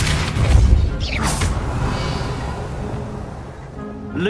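A Depulso spell cast in Hogwarts Legacy bursts out as a loud, booming blast with a crashing whoosh, followed by a sustained rumbling wash of game sound.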